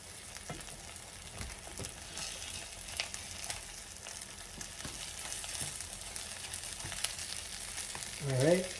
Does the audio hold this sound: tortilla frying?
yes